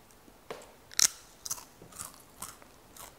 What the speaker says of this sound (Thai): ไม่รู้ว่าได้ยินเสียงของความกรอบของมันหรือเปล่านะครับ